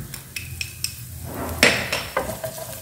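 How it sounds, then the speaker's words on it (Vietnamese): Onion, garlic and ginger being stir-fried in a pan: a spatula clinks and scrapes against metal in irregular taps over a low sizzle that rises partway through, close and with no talking. "Xào cho thơm nhé"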